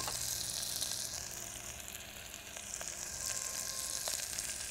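Onions sautéing in a pan with curry leaves and coriander in a Tamil home-cooking setting, a steady close sizzle and hiss with occasional faint stirring clicks, no talk.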